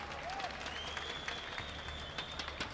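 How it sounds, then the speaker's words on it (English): A crowd applauds at the 2017 CWL Championship, a Call of Duty esports match, as a faint, distant patter of clapping runs steadily throughout. "Yeah, you can clap for that."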